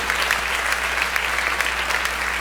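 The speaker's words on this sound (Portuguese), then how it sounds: "Dê um aplauso ao Senhor. Bem forte." A church congregation claps together in steady, dense applause at a worship service, filling the room at an even level for the whole stretch with no voices standing out.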